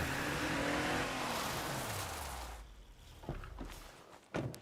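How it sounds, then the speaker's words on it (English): Car engine in the video game State of Decay 2, a loud sustained engine roar with a falling pitch sweep over the first half, fading out and followed by a few short sharp knocks or footstep-like impacts. "noise is not a big deal because that dude did not even hear the damn car"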